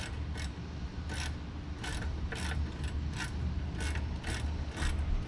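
Regular ratchet clicks, about ten evenly spaced strokes, sound while tightening a cold air intake on an Audi B8 S4 3.0T, fairly quiet over a low background hum with no talking.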